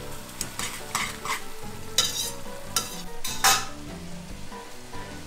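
Spaghetti simmers with a black sea bream and dried tomato sauce in a frying pan, a steady close sizzle and bubble broken by repeated scraping, clattering stirs, with no talk.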